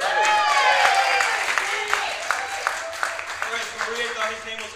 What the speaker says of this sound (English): round of applause for my man Kenny here.